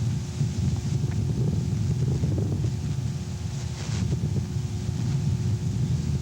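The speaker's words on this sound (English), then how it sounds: "What you hear are the sounds made by rocks, pumice flying out of the crater, the sound of wind associated with the vertical movement of the ash" Erupting volcano throwing out ash, rocks and pumice: a constant deep rumble of the earth beneath rushing wind noise, with scattered faint crackles and patters, steady and unbroken, no one speaking.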